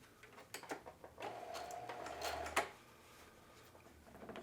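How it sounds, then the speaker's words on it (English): A sewing machine stitches a denim jeans zipper, a short whirring run of stitches with a few clicks and taps of handling before and after, fairly close. "I'm going to stitch all the way up to the top, removing those 3 pins as I go along"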